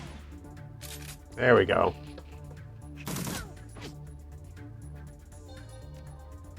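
A short burst of rapid gunfire from the turn-based video game Shadowrun Returns: Dragonfall, a few crisp cracks followed by a second shot a moment later, under game music with a voice commenting briefly.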